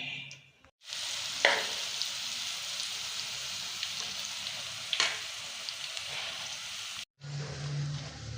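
Besan kadhi with fresh coriander being stirred with a spoon as it cooks: a steady, broadband simmering hiss runs throughout, broken by a few brief scraping strokes, with a short pause before a lower, bubbling stretch at the end.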